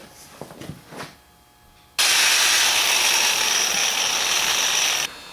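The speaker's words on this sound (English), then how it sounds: "I'm going to drill a hole at the back" A power drill bores a hole into a log stair stringer, starting after a few light knocks and running loud and steady for about three seconds before stopping abruptly.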